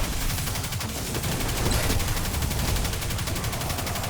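Rapid, continuous automatic gunfire fired at enemies during a Destiny Nightfall mission, loud and close, a dense unbroken stream of shots lasting the whole stretch.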